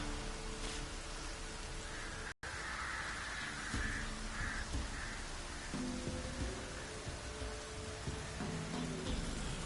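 Rain pours down in a steady, dense hiss of drops on surfaces, continuous apart from a momentary cut, with a low rumble and faint background tones underneath.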